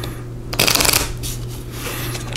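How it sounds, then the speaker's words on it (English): A deck of small playing cards is riffle shuffled at a game table: one quick, crisp burst of fluttering cards, close and loud against a quiet room hum. "We're going to riffle shuffle."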